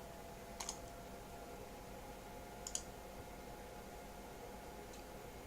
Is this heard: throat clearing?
no